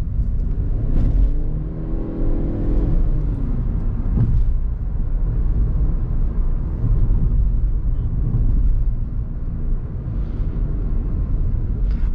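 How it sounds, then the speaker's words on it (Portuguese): Inside a 2020 Chery Arrizo 6 cruising along a road, a steady, muted low rumble of tires and wind fills the cabin with no distinct engine note. It stays even and unbroken throughout, with no talking. "Daí você tira o pé, o carro fica extremamente silencioso."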